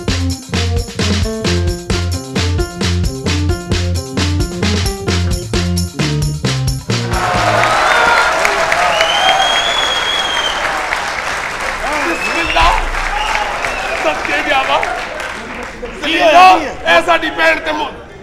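An audience at a Pakistani stage drama breaks into loud, sustained clapping and crowd noise right after a stretch of rhythmic, pulsing music, and the applause fills the rest of the scene.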